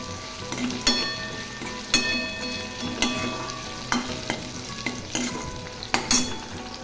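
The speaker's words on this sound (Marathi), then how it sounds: "मी आता फोडणीमध्येच मिरची घालते" Green chili sizzles in hot oil during a tempering, with steady frying crackle and a spoon stirring and scraping the pan at a regular beat, close and fairly loud with no talking.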